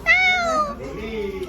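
A cat gives a single close, clear meow that slides downward, followed by a quieter, lower trailing mew.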